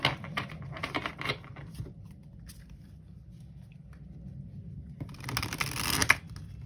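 Tarot cards shuffled by hand during a reading, a soft papery riffling and patter that comes in bursts, quieter in the middle and louder again near the end.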